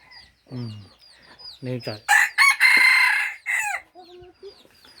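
A decoy rooster crows loudly and close, giving several harsh, broken crows with short clucking calls in between.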